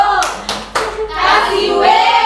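Three sharp hand claps from a classroom clap chant called tepuk wow keren, each crisp and close, followed by a teacher speaking over the room.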